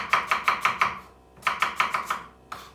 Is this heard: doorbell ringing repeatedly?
no